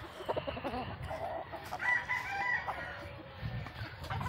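Backyard chickens on a Philippine farm cluck and a rooster crows in the middle, moderately close and fairly quiet against low background noise.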